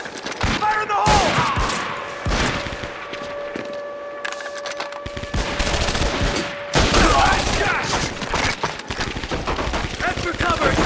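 MG-42 machine gun fire in the video game Medal of Honor Vanguard, loud rapid bursts of gunfire with sharp shots scattered throughout, under shouted voices and tonal battle sounds.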